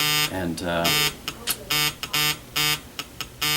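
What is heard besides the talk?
phone ringing with an incoming call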